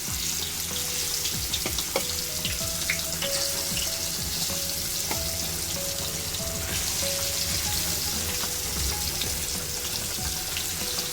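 Masala-coated fish fries in hot coconut oil with a dense, even crackle and sputter, close and constant, with faint tonal background music underneath.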